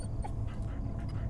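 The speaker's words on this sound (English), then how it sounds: "Oh, there's the dog." A dog whimpers softly in the Fears to Fathom horror game, a faint, brief whine over a low, steady ambient background.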